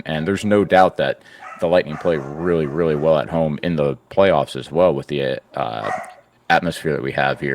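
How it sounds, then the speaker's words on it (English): Several dogs bark in short, sharp bursts indoors beneath someone talking steadily, the yips scattered between his sentences. "So sorry about my dogs going nuts."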